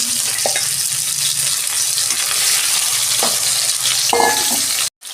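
Fish head frying in hot oil in a kadai for a Bengali mung dal: a steady, close sizzle runs throughout with a few stirring scrapes and a brief clatter near the end.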